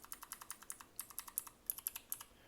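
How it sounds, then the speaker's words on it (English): Tactile buttons on a small four-button editing keypad are clicked in a quick, irregular run of about twenty sharp, close, quiet clicks. "It's got 4 buttons, got that tactile feel to it too."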